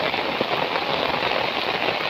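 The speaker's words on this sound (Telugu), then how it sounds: "వర్షం పడుతుంది." Steady rain falls throughout, a dense, even hiss of drops hitting a surface close by, with no voices over it.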